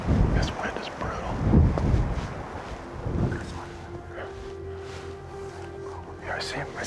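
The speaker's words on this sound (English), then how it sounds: "This wind is brutal." Strong wind on an open African hillside during an eland hunt, heavy low buffeting gusts roaring in waves, loudest early on, with people speaking quietly beneath it.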